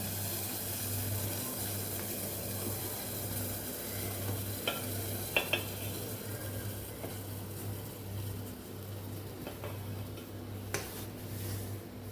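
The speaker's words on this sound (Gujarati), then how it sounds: "હવે આપણે લાપસીને ઓળી દઈશું અને ગેસને કરી દઈશું ધીમો" Cracked wheat lapsi poured into boiling melted jaggery water on a stove, a steady low bubbling sizzle with a few faint clinks of a utensil, close and quiet, no talking.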